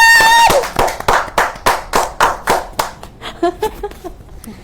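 A short burst of hand clapping from a small group in a live session, starting after a brief sung tone and settling into a rhythmic run of distinct claps that fades toward the end.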